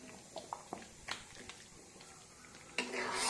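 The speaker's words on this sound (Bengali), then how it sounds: "মশলাটা দেওয়ার পর ভালো করে মিশিয়ে নিতে হবে, ভাজা মশলাগুলো দিয়ে।" Mango pickle being stirred together with fried spices gives soft scraping and a few light clinks and taps. The sounds are quiet and close, with sporadic strokes and a louder scrape near the end.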